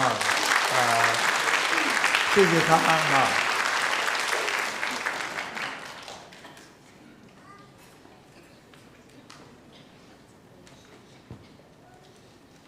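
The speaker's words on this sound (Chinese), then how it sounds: "请我们拍掌" A church congregation at a Thanksgiving Sunday service applauds with dense, loud clapping for about six seconds that fades out, followed by a quiet room with a few footsteps and brief speech.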